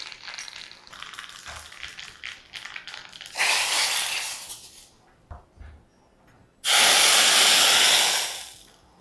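Mustard seeds and asafoetida crackle and sizzle in hot oil, with small pops early on, then two loud bursts of intense hissing as they hit the pan.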